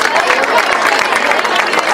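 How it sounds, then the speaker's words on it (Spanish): A crowd at a year-end party for a rugby club claps for the girls' hockey team, a brief steady patter of applause filling the room. "Fuerte el aplauso para todo el grupo."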